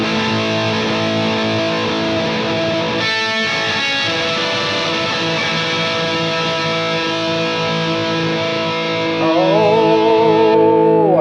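Electric guitar played through the harm preset on a Headrush MX5 pedal, with a bit crusher effect adding gritty distortion to sustained chords, alone and loud, with a bright warbling pitch-shifted line near the end.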